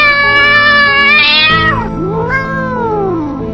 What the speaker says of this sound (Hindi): उधर साइड में तो एक काली बिल्ली थी।